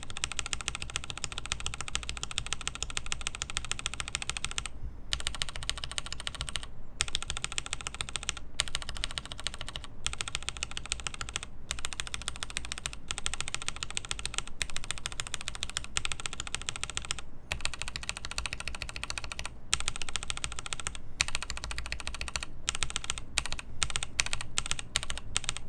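Someone types steadily on a mechanical keyboard fitted with KLC switch dampeners, making a close, continuous clatter of muted keystrokes with a few brief pauses and a quicker burst near the end.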